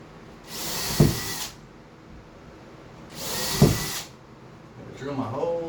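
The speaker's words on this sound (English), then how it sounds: "Drill my holes." A power drill bores holes into a wall for mounting LED uplight shelves, two whining bursts of about a second each, loud and close, separated by quiet room tone.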